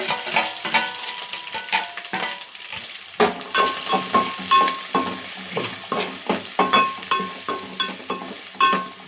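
Chopped onions, green chillies and carrot fry in a pan for upma, a soft sizzle broken by repeated sharp scrapes and knocks of a spoon stirring against the metal, close up with no voices.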